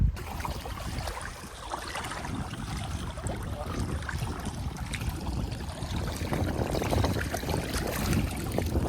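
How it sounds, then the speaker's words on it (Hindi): Flowing water at Surpura dam in a safari park setting, a steady broadband rush that holds continuously, close and fairly loud, with no talking. "अभी मैं इस पानी की आवाज़ सुना रहा हूँ आपको, ध्यान लगा के सुनना।"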